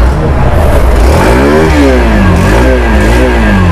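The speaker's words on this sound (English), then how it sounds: "So now let's hear the exhaust note." A Hero Xtreme 160R BS6 motorcycle revs close to the microphone, its exhaust note rising and falling through several loud throttle blips over a steady idle.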